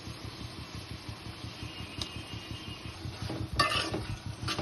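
A spoon stirs tomato curry in a pan for an Andhra-style prawn dish, making a steady, soft scraping and churning sound up close, with a few sharper clinks near the end.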